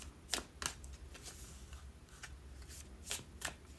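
Tarot cards are shuffled close by in a quiet room, a series of crisp riffling bursts with short pauses in between and no talk.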